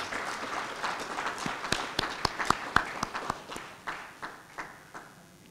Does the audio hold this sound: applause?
yes